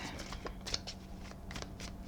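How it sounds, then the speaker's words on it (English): An Astrology Answers Master Tarot deck is shuffled by hand, with quick, close riffling and soft card flutters in a brisk rhythm and no talk. "I do shuffle a lot off camera as well"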